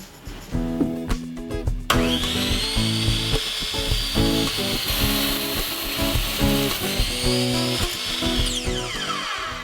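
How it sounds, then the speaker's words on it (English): A power saw is cut through wooden lumber-rack pieces set against a stop block on a workbench, with a sustained loud whine under a steady beat of music, ending as the blade winds down. "now I'm going to cut them to length"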